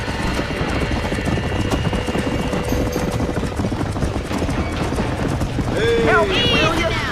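Horse hooves clip-clop in a steady, busy rhythm in the video game Red Dead Redemption 2 during a barn fire, with layered noise, and a horse whinnies loudly near the end.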